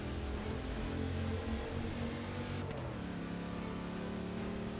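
Car engine in Forza 6 held at the red line, a loud sustained drone with steady harmonics that drops slightly in pitch about halfway through, then continues at high revs without a break.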